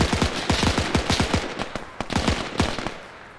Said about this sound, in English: There's the submachine gun leading.